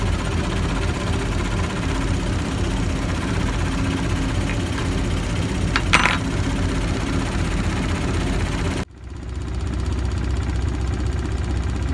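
A diesel engine of an SM42 locomotive rumbles steadily at idle just after starting, with a constant low drone, briefly dipping before settling back into its even running.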